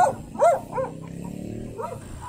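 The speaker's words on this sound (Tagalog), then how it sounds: "Ay, aso." A dog barks a few times in short, rising yelps early on, then quieter whimpering calls follow at moderate distance outdoors near a roadside viewpoint, with a low vehicle hum underneath.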